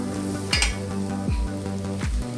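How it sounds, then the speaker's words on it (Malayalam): Coriander powder frying in a pan for a Kerala duck mappas, stirred with three regular scraping strokes over a steady sizzle, close and moderately loud, with no talking. "ഈ മല്ലിപ്പൊടി നന്നായിട്ടൊന്ന് ഇളക്കി ഇതിൻ്റെ ആ പച്ചമണം ഒന്ന് മാറിക്കിട്ടണം"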